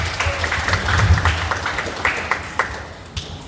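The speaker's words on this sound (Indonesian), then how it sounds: "Tepuk tangan tuh semuanya" An audience at an Islamic seminar on marriage claps together, a fairly close patter of applause that slowly thins out, with faint voices underneath.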